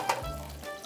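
Sausages sizzle and spit in hot oil in a frying pan, a steady crackling fry with a brief sharper pop near the start, heard close and alone.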